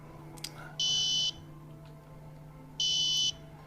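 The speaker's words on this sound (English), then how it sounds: "will emit an audible tone that can be heard" Wearable gas detection device sounding its hazard alert, two loud steady electronic buzzer tones each about half a second long, separated by a two-second gap over a low room hum.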